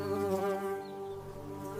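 Steady, continuous bee buzzing with a rich drone and layered harmonics, loud and close throughout, with no voices over it.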